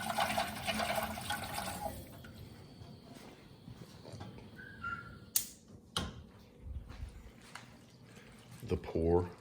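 Beef broth made from dissolved bouillon cubes pours with a rushing liquid splash for the first two seconds, then quieter clinks, thumps and scattered handling noises follow, with a voice briefly present.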